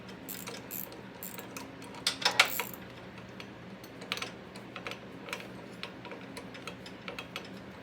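A ratchet wrench works a self-locking 7/16 nut on a Snapper mower drive train, giving faint, irregular clicking and metallic ticks with a couple of louder bursts, heard alone without talk.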